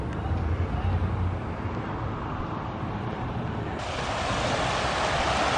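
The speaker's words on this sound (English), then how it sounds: "water just pouring out of the ground here." Hot spring water gushes and pours steadily from the ground, a loud continuous rushing wash with wind buffeting the microphone, no voices.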